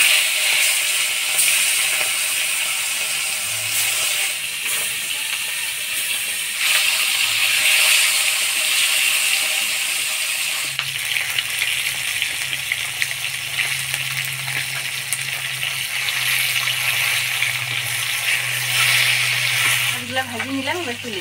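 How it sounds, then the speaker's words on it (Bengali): Fish coated in turmeric and salt fry in hot oil in a pan, a continuous crackling sizzle with bursts of spattering, close and steady, while faint background sounds and a low hum come and go. "মাছগুলো হলুদ লবণ দিয়ে মাখায় ভেজে নিব।"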